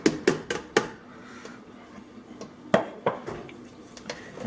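A blended chili mixture dumped into a cooking pot, heard as close clinks and knocks of a container against the rim with soft wet squishes in between, in short clusters separated by quiet gaps.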